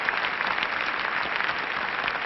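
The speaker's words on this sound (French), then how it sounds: "tandis que les applaudissements du public déferlent sur elle" An arena audience applauds figure skater Janet Lynn with dense, continuous clapping that holds at an even, full level from start to finish.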